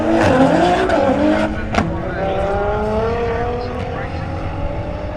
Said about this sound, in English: Next up, we got an Audi versus an R35 GDR.